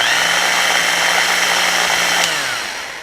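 An old, stiff power drill, its internals clogged with hardened grease, runs with a steady strained whine alone, then winds down near the end.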